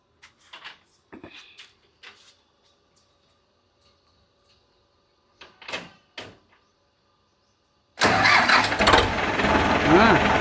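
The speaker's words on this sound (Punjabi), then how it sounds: "ਇਹਨੂੰ ਸਟਾਰਟ ਕਰਕੇ ਦਿਖਾਓ ਆਪਾਂ ਇਹਦੀ ਵੜਕ ਵੀ ਦੇਖ ਲਈਏ" An Indo Farm tractor engine in a village setting cranks and catches near the end, roaring loudly into a rough diesel idle after several seconds of mostly quiet with short bursts of talk and handling noises.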